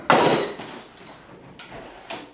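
Hammering on a boat transom during installation on a Carlson CVX-18, with one sharp loud strike followed by two lighter taps, close by and without talk.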